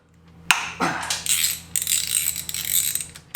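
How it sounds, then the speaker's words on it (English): A tool working a motor mount bolt on a Yamaha FJR1300ES motorcycle, with sharp metallic clicks and a ratcheting rattle in short bursts, close and fairly quiet. "it says to remove this motor mount bolt right here."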